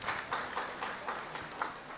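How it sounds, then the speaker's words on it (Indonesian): A small crowd claps in a steady, rhythmic beat for an official at a village ceremony for a hand tractor handover, heard faintly from a distance. "Oke, tepuk tangan dulu untuk Bu Kabid."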